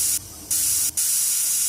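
Pressure cooker on a stove, with mutton cooking inside, lets out a loud, steady hiss of escaping steam that breaks off briefly twice and then resumes, alone and close.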